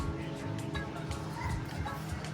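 Small dogs bark and yip repeatedly in a busy mix, with some whimpering and a voice mixed in nearby.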